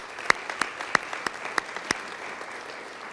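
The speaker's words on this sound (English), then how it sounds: "Let's give them a round of applause." A small group clapping, with a handful of sharp distinct claps standing out over a thin patter that fades toward the end.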